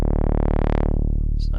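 Moog synthesizer oscillator set to a saw wave holds one buzzy, harmonically rich note, its brightness sweeping up and then down as the filter moves, with nothing else playing.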